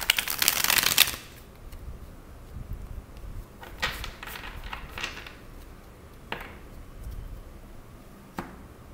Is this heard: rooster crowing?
no